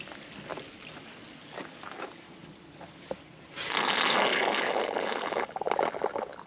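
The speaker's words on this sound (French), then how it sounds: "je vide le réservoir" Water pours out of a tank outdoors in a strong, steady gushing rush that starts suddenly partway through, after a few quieter knocks and trickles, and stays loud to the end.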